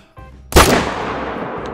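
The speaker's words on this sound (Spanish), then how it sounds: "Vamos a hacer el lance con el 3006. Ponemos la distancia y disparamos." A single loud rifle shot from a .30-06 in theHunter: Call of the Wild, firing at an ibex. One sharp, close crack follows a quiet moment and then rings out into a fading echo.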